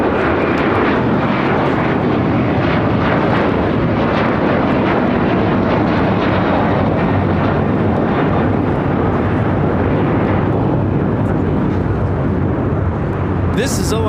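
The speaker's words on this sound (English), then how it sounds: "This is Alaska Airlines 380 taking off to Fort Lauderdale on a 737-900ER." An Alaska Airlines Boeing 737-900ER jet roars down the runway on takeoff, a loud, sustained broadband engine rumble lasting throughout with a steady wash of thrust noise.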